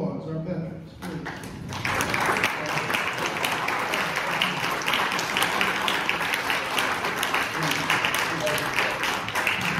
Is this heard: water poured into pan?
no